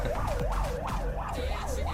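An ambulance siren wails in a steady rising and falling cycle, repeating about every quarter second over the low hum of traffic.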